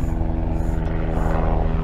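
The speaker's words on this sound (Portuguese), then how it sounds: "um helicóptero aqui, eu acho que você deve estar escutando" Helicopter passing overhead, a steady low rotor drone with a rhythmic beating throb, loud and continuous throughout.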